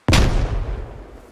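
A single loud, close gunshot with a sharp crack and booming tail that decays over about a second, fired in the SquadOps military shooter game.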